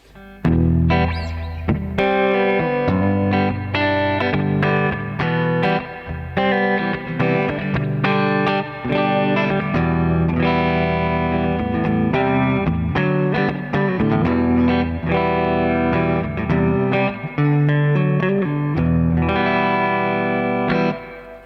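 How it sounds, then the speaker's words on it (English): An electric guitar plays chords and single notes through a Strymon BigSky reverb pedal on a spring reverb setting, each strike trailing into a splashy, ringing tail. "just a generic spring reverb sound"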